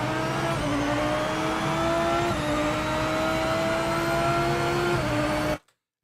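A race car engine in the Project Motor Racing sim racing game revs hard and climbs through the gears, each rising whine dropping briefly at a shift, loud and close, before cutting off abruptly at the end.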